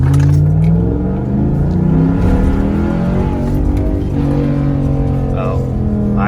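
A Jeep Commander fitted with a cold air intake accelerates hard, its engine note loud and close, rising and rumbling with shifting harmonics; a voice is faintly audible underneath.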